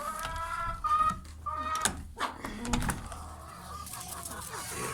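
Young chickens in a garden enclosure on a hot day, chirping and clucking in short repeated calls, fairly close, with some rustling and scraping around them.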